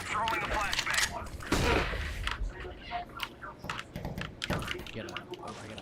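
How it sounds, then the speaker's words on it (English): A flashbang grenade going off amid gunfire during an online video game, a broad burst near the start followed by scattered sharp shots and clicks, with players talking over it. "I'm throwing a flashbang."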